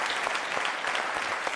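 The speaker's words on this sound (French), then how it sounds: "On peut l'applaudir, s'il vous plaît." A celebration crowd applauds a man recently made a knight of the National Order of Merit of Côte d'Ivoire, sustained, even clapping from many people, fairly soft and without speech on top.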